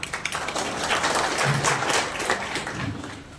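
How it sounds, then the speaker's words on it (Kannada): Audience applause at a public function, Savita Maharshi Jayanti celebration, a dense steady wash of clapping from a sizeable crowd filling the whole stretch, no one speaking over it. "ಎಲ್ಲ ಚಪ್ಪಾಳೆ ಹೊಡೆದ್ಬಿಟ್ರು"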